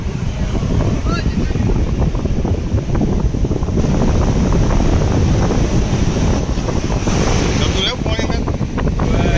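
Sea waves and wind on the shore beside Somnath temple, a steady loud wash of surf with wind buffeting the microphone throughout.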